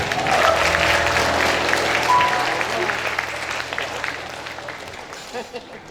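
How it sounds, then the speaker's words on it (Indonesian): A crowd claps loudly and steadily, the applause gradually thinning and fading out toward the end, with voices mixed in. "Sekali lagi boleh beri tepuk tangan yang meriah"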